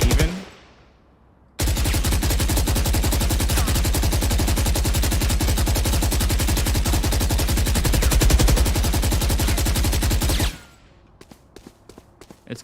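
Rapid automatic gunfire in Valorant on the map Split rattles continuously for about nine seconds after a brief quiet start, then stops abruptly, followed by a few faint clicks.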